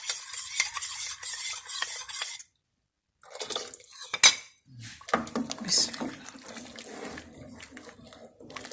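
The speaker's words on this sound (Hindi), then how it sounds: "चम्मच चलाते रहना साथ साथ, अच्छी तरह पक जाए" A spoon stirs chicken soup in a pot while cornflour is added, with scraping and clinking against the pot in bursts between pauses, and someone talking over parts of it.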